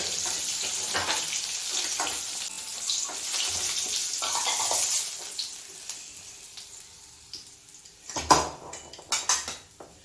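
Fried fish pieces are lifted out of a pan of hot oil: a low sizzle runs under scattered clinks of utensil against metal, ending in a few sharp, close knocks and scrapes.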